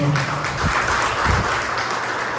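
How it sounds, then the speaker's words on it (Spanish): A church congregation gives a loud round of applause to the Lord during a service, a dense, steady wash of clapping throughout with no talking over it. "Dale un aplauso fuerte al Señor."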